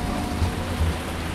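Steady rain patters densely and evenly on a surface in a rural Thai field setting, forming a close, continuous hiss with no voices.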